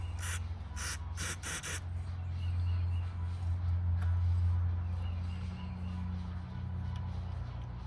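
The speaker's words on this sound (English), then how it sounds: "I'm gonna spray a little bit of oil in there." A few short bursts of aerosol spray hiss as oil is sprayed into a lawn mower engine cylinder, then a steady low engine-bay hum continues alone.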